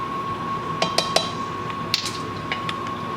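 A utensil stirring creamy ground beef and potatoes in a pan gives a handful of light metallic clinks and scrapes at uneven intervals over a soft steady background hum.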